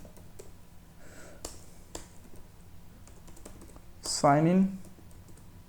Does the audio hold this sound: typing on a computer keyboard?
yes